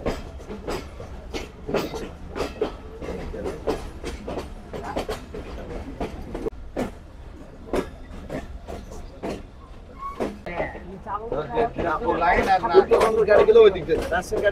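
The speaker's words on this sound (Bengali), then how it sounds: "আন্তনগর বাংলাবান্ধা এক্সপ্রেস প্রবেশ করলো রাজশাহী রেলওয়ে স্টেশনের 3 নম্বর প্ল্যাটফর্মে।" The Banglabandha Express intercity train rolls into Rajshahi railway station, its wheels clicking in a steady clickety-clack over rail joints, with hissing and clanks rising toward the end as it slows along the platform.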